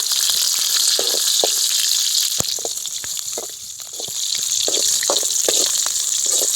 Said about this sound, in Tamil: கருவேப்பிலையும் போடணும் பச்சை மிளகா பச்சை மிளகா பச்சை மிளகா நல்லா கொஞ்சம் ரெண்டு சும்மா வதக்கிட்டு